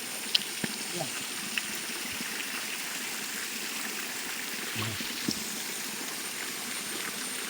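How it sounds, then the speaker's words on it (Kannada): A small river flows through green forest in the rain, a steady close rushing and trickling wash that continues evenly, with faint voices now and then. "ಗಾಯ್ಸ್ ಒಂದು ಸಣ್ಣ ನದಿ"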